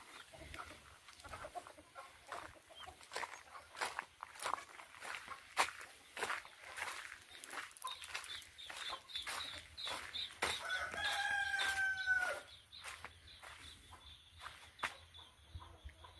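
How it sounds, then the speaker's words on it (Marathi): Chickens roam inside a shed during drizzling rain, with scattered clucks, a rooster crowing midway, and the light patter and shuffling of movement, all fairly faint and distant-sounding. "रिमझिम पावसामध्ये फिरतायत त्या कोंबड्या."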